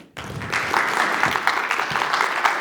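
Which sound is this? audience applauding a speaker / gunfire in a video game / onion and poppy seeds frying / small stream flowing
audience applauding a speaker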